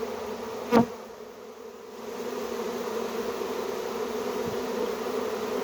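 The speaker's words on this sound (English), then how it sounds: "the whole resonance frequency of the hive buzzing as one changes" A steady, dense buzzing of a honey bee swarm hums throughout, with a brief sharp tap near the start; no voices.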